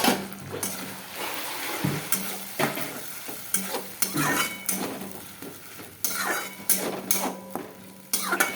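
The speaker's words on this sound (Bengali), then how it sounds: "যে কুচানো পেঁয়াজটা এখন একটু ভাজা হবে" Chopped onion and spices fry in a pan under a continuous sizzle, broken by repeated scraping and clanking strokes of a utensil against the metal, with no talking.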